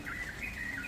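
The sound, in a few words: birds chirping at dawn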